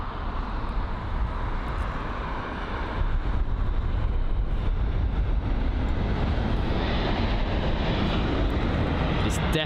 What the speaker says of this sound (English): the British Airways A320neo is just about to touch down at runway 27 right